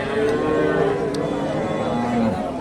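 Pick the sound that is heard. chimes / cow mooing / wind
cow mooing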